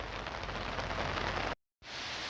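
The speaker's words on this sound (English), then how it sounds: "A bit of a heavy shower come on, so I'm just having a wee break." Heavy rain shower pours down on a golf course, a dense, steady hiss of rainfall close by that cuts out abruptly for a moment before resuming just as strongly.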